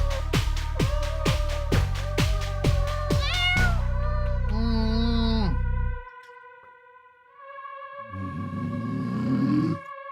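A cat meows loudly in a series of quick repeated cries, then gives a longer drawn-out yowl before a short pause and more vocal noise, close to the microphone.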